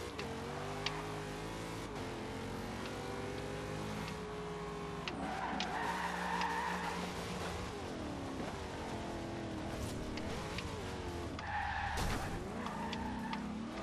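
A Ford Sierra RS500 Cosworth tuned to 928 bhp races and skids in Forza Horizon 2 on Xbox One, with a continuous loud engine roar and tire skid noise that surge and shift in pitch throughout.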